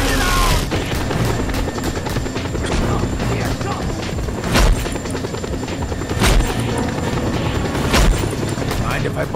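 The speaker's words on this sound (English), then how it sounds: "Deal with that chopper, Rico, quickly!" Helicopter in the video game Just Cause 2, its rotor thrum droning steadily beneath dense game action with gunfire and several sharp booming impacts.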